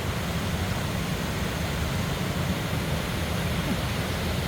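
Water pours through an open gate of a dam that is full, making a constant, dense, loud roar of rushing water with no break or change.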